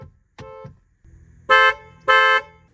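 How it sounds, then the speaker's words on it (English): A Hyundai Elantra horn blaring in two loud, separate honks about half a second apart, each cutting off sharply, after some faint lower clicks. "Give me a horn score."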